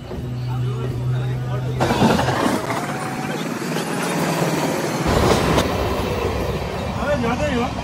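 A passenger train pulls out of Howrah station with a continuous low rumble and rolling clatter of wagons, an onboard hum giving way to louder rail noise, with people talking nearby.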